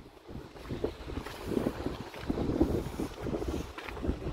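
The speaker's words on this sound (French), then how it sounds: "on est dans un couloir de vent d'un seul coup" Gusty wind buffeting outdoors through a mountain wind corridor, rumbling and fluctuating in strength, with no talking heard.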